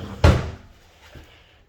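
A deep storage drawer in a 10 x 32 ft gooseneck tiny house shuts with one loud, close thump, and a softer knock follows about a second later.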